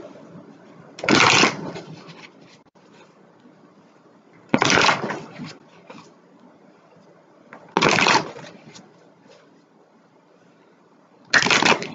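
Tarot cards shuffled in four separate bursts about three seconds apart, each a crisp riffling flutter standing out over a faint background hum.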